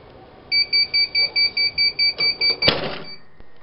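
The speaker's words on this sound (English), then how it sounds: "All we're going to do is wait for the alarm to go off." A heat press timer alarm used for applying transfers to a hoodie sounds as a run of about ten evenly spaced sharp beeps, loud and close, ending with a clunk as the press opens.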